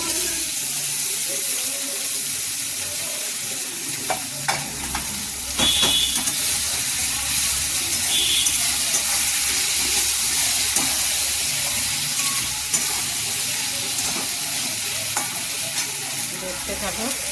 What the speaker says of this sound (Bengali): তারপরে চিড়েটা দিয়ে দেবো।